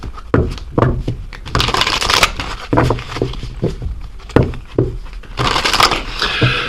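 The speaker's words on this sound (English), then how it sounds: "So let's get into some oracle cards here and see." A deck of oracle cards is shuffled close up, with rapid papery riffles and slaps in uneven bursts that continue throughout without talk.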